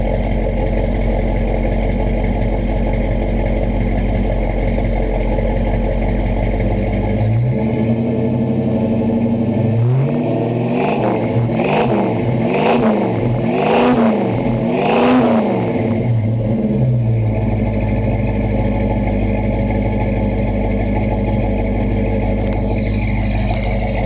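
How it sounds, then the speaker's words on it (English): A 1972 Ford Mustang Mach 1 V8 with dual exhaust idles with a loud, steady rumble, then is revved several times in rising and falling bursts before settling back to idle, close and alone. "Let you hear it running."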